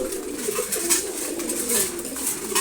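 A pair of pigeons, including silver youngsters of five to six months, coo softly while feeding in the morning, with low, continuous throaty calls close up and light pecking rustle.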